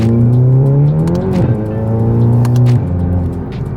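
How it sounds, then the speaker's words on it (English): A Volkswagen MK7 GTI with a hybrid turbo accelerating hard, with its engine note loud and close, climbing steadily in pitch with a brief dip as it shifts, then pulling on strongly before easing off. "I spooled up that turbo, about 20 pounds of boost there, and it just goes."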